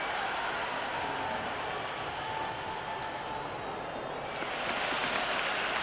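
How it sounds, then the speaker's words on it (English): Crowd roar in the Cricket 26 video game, a dense continuous wash of cheering and applause holding steady at a fairly loud level without pause. "There's an almost tangible fervour throughout the crowd at the moment."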